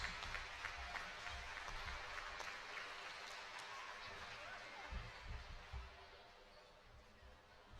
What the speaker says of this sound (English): Let's give a big round of applause for all of our senior Lady Gators basketball players